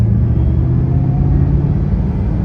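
Ford GT Signature Edition with an old three-pedal manual setup, its engine giving a steady, loud low rumble close by, constant throughout with no talk over it.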